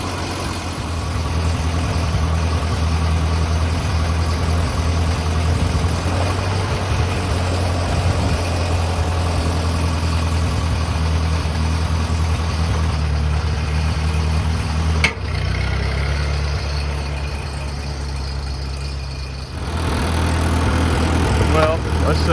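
A restored Ford 8N tractor engine idles close by with a loud, steady low-pitched chugging rumble, interrupted by one brief sharp knock partway through.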